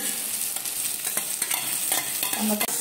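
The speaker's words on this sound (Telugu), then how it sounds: "అన్నింటినీ వేసుకునేసి బాగా ఫ్రై చేసుకున్నామండి" Pieces of tambakaya gourd fry in browned tempering oil, a steady close sizzle broken by repeated scraping stirs in the pan across the short stretch.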